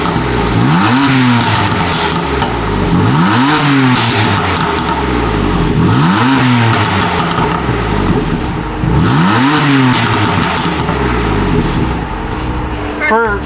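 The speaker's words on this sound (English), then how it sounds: "we're gonna fire the car up and listen to how it sounds stock form" A BMW F80 M3 with stock exhaust revs hard four times in a steady rhythm, each blip rising sharply and dropping back to a loud, throaty idle between pulls.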